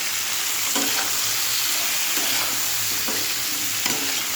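Malabar spinach stalks frying in a pan with onion, a steady loud sizzle with several scraping strokes of a spoon stirring through it, close up and uninterrupted by talk.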